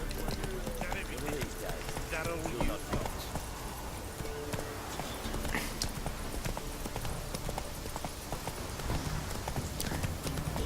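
Steady clip-clop of a horse running continuously in The Witcher 3, close and fairly loud, with a voice talking over it throughout.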